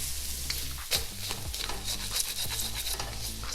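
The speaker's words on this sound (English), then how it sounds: "let's give this just a quick stir" A pan of Indian fish curry with sea bass is stirred over the heat: a continuous close sizzle of frying, broken by several brisk scraping strokes of the spoon against the pan.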